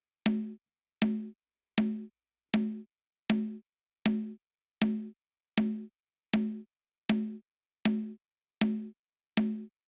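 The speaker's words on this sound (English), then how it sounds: "We have a congo or conga." A conga drum plays a percussion part for a beat, with thirteen evenly spaced, crisp hits on its own, each a short resonant tone that decays quickly.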